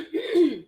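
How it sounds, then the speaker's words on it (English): A single short throat clearing, a close, rough guttural rasp lasting well under a second. "I'm clearing my throat"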